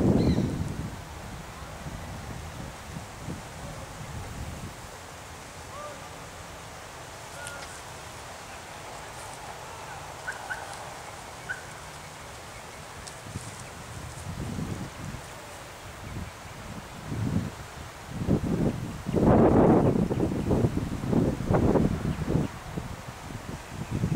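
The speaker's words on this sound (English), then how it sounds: "Wind's blowing about 20 knots." Strong wind of about 20 knots buffets the microphone at a graveyard, a steady rustling roar with louder gusts building toward the end, and no talk over it.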